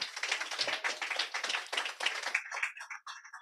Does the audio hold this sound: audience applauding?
yes